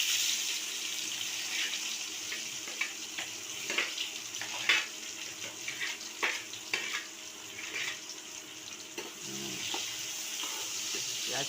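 Onion sizzles in hot oil while chicken dum biryani is being prepared, a continuous bright hiss with scattered crackles and pops, close and steady, with no talk.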